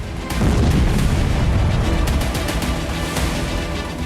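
Loud explosion from a Ukrainian drone strike on Moscow, a heavy booming blast followed by a sustained rumbling roar and crackling noise that continues for several seconds.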